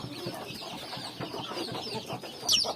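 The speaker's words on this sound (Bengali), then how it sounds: "দেশি মুরগির বাচ্চা ভ্যাকসিন করা আছে" Native desi chicks, vaccinated and kept with their mother hen, cluck and peep softly and continuously, with a brief, sharper chirp near the end.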